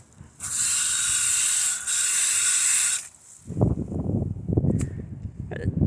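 One long hissing spray of Vanish cleaning chemical, loud and close, with a brief dip midway. It is followed by scrubbing and rubbing noises on a dirty surface.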